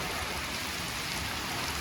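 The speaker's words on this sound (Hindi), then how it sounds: "फिर बारिश हो रही है" Heavy rain pours steadily over a village of mud houses in Sindh, Pakistan, in the evening: a dense, continuous hiss that stays loud and even throughout with no pauses.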